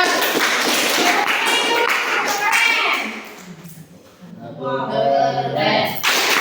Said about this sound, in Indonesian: Tepuk tangan dulu buat Darul.